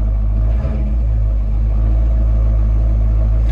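A car cruising along Route 66 in Arizona near Williams produces a steady, heavy low-frequency road and engine rumble from inside the vehicle, continuous throughout with no distinct events.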